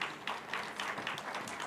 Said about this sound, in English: A good round of applause for him,